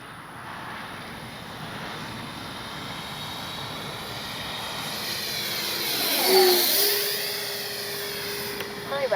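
An F9 Cougar 80mm RC jet from HSD Jets on its maiden flight, with a whining ducted-fan hiss that sweeps in, peaks in a sharp Doppler pass, then fades.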